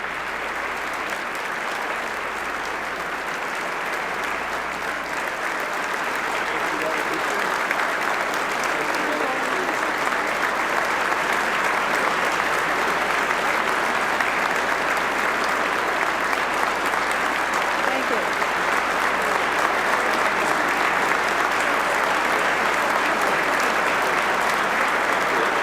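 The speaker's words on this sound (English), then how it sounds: "Let's listen to the governor and to the applause she's getting." Sustained, dense applause from a large audience greeting New Jersey Governor Christine Whitman during her 1995 state budget address, loud and steady throughout with no speech over it.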